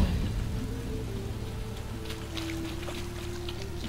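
Rain falling in the video game Witcher 3, a dense steady hiss of drops with a low rumbling ambient bed and a faint sustained tone, continuous and even throughout.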